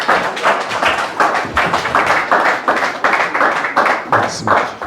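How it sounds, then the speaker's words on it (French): A church congregation claps and cheers in praise, with dense, steady applause, rhythmic hand beats and some voices mixed in, loud and close throughout. "Si nous pouvons acclamer pour la gloire de Dieu"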